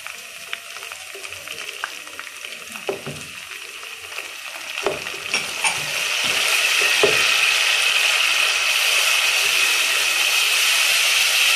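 Tori (ridge gourd) curry frying in a pan: a steady, bright sizzle that swells and grows louder halfway through, with scattered scraping and clinking of a utensil stirring.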